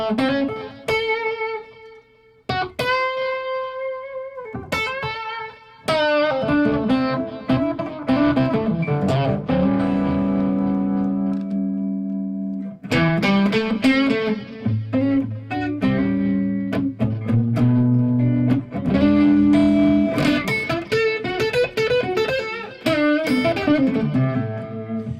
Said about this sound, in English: Here's just the delay on its own.